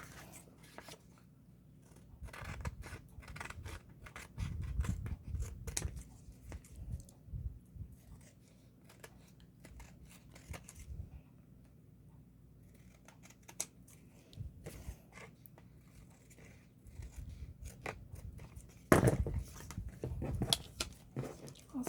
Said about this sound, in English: so I need to cut this off.